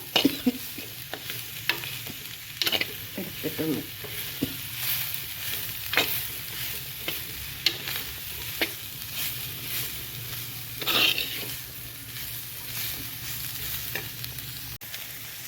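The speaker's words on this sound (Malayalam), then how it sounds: "നന്നായിട്ട് ഇളക്കാം" A spatula stirs papaya and grated coconut around a sizzling pan in steady, repeated scraping strokes up close, with one brief spoken word.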